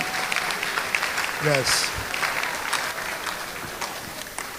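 Applause at a training event, a crowd clapping steadily throughout with people speaking over it.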